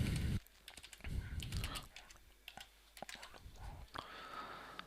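Quick, uneven keystrokes on a computer keyboard while HTML code is typed, with sharp close clicks in short bursts and a brief low murmur at the start.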